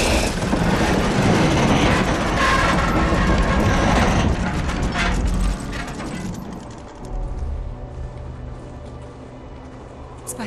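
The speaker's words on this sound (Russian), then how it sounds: "Поезд." A train running on rails in Resistance 3, heard as a loud, dense rumbling clatter that drops to a quieter, steadier low hum partway through.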